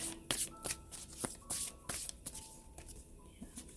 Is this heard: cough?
no